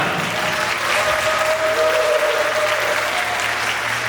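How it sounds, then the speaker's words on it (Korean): Wedding guests in an indoor hall break into steady, dense applause with some cheering, a continuous roar of clapping from a crowd that lasts throughout. "신랑이 오늘 멋지다고 생각하신 분들만 박수, 함성 부탁드리겠습니다"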